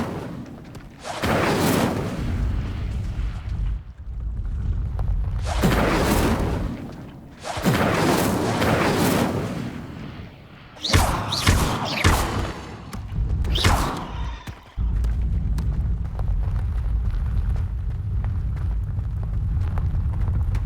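Incendio fire spell cast in the Hogwarts Legacy video game, several loud whooshing, roaring blasts with booming thuds, each rising and fading in turn, followed by a steady low rumble.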